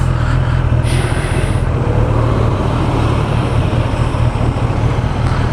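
Steady, loud road and wind rumble heard while riding a 600cc supersport motorcycle through an intersection, a constant low roar with a brief higher whine early on.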